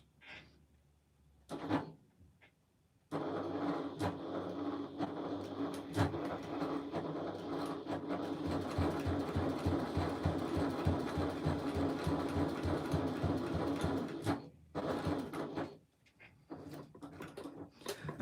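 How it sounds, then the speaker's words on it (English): A sewing machine runs steadily in a long continuous burst, stitching around the outside edge of a project with a narrow eighth-inch seam allowance, starting abruptly after a pause and stopping near the end with brief handling clicks. "I'm stitching around the outside edge again using an 1/8 of an inch seam allowance"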